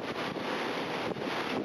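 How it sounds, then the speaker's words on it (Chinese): Typhoon Morakot storm at Linbian, Taiwan: strong wind roars steadily across the microphone with broadband buffeting, mixed with rushing flood water from a burst embankment, loud and continuous throughout with no voices. "狂风暴雨中洪流肆虐，连一旁的抽水站也被吞没"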